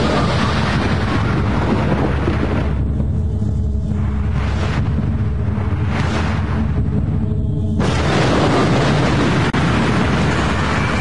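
A massive, loud atomic bomb explosion roar with a sustained rumbling boom that swells, dips and surges again, dense and overwhelming throughout.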